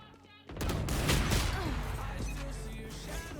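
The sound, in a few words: sniper rifle gunfire in video game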